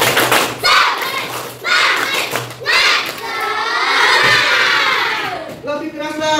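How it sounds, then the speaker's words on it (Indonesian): A classroom of children repeats the tepuk semangat chant, loud rhythmic clapping and shouted syllables close up, ending in a sustained group cry before a teacher resumes talking. "Coba kita lagi, tepuk semangat."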